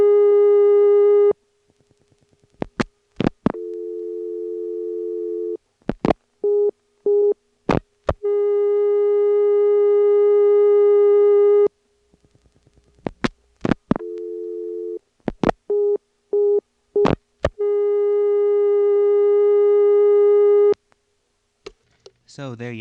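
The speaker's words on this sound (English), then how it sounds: "a demonstration of the long distance restrictor, the device that prevents you from dialing 1 on an outside line" Motel PBX long distance restrictor from 1977 answering an outside line dialed with 9 then 1: a steady dial tone cut by clicks, followed by repeating busy-signal beeps, with the cycle of clicks and tones occurring twice.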